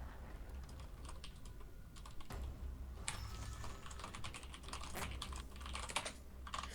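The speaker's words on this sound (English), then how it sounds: "Frantic typing." Frantic, fast typing on a computer keyboard, a steady stream of quiet clicking keystrokes with a few louder key hits, heard alone without talk.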